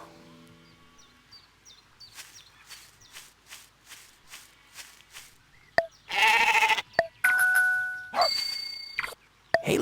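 Sheep in a David vs Goliath video game bleat in several loud, close bursts, following a stretch of soft, rhythmic game sounds and chimes.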